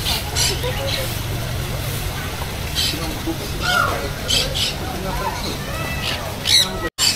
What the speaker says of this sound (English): So the bird is following me.